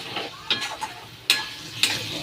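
Mutton pieces and spiced oil in a pan, a soft steady frying hiss broken by a few sharp scraping stirs and clatters, close and moderately loud.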